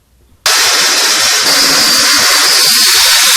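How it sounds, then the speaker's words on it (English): A power drill bores out holes in a steel welding table, starting abruptly after a near-silent moment and then whining loud and steady without a break. "now I got to bore all these holes out to the size of the screw"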